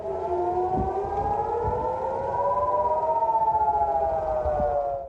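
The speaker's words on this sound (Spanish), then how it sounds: "las alarmas antimisiles empezaran a sonar en Israel" A missile air raid siren in Israel wails continuously, its tone slowly rising and falling, heard from a distance with a faint pulsing waver.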